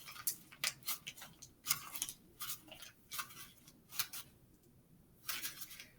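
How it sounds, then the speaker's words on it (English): Paper is crumpled into a tight ball, crinkling and crackling in quick, uneven bursts, close and fairly quiet, with brief pauses between scrunches. "you're going to crumple it up into a tight ball like this"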